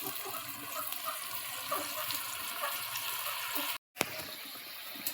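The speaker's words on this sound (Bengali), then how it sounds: "টকবক করে ফুটছে দেখুন" A pan of kochu leaf fritters simmering in a thin curry, a steady dense boiling and bubbling close up, continuous throughout with one brief dropout near the end.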